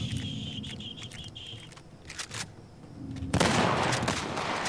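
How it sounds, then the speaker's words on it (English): Shotgun blasts from The Last of Us Part 1 boom out in a short burst of loud, noisy reports amid quieter in-game background sounds, with no talking. "I think I'm shooting too far away with the shotgun."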